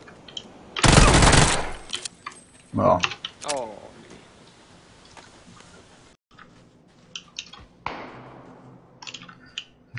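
Gunfire in a PUBG match: a loud, sharp, rapid burst near the start, a second shorter burst soon after, then scattered fainter shots and mechanical clicks. Quiet voices talk between the bursts.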